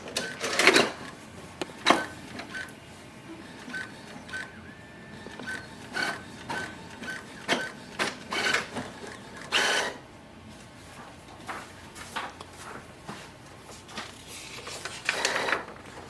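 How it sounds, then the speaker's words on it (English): A Brother MFC-J4535DW inkjet printer runs a nozzle check sheet after printhead cleaning, with scattered clacks, short whirs and carriage clicks coming at uneven intervals, fairly faint with quiet gaps between. "Let's print the nozzle check sheet."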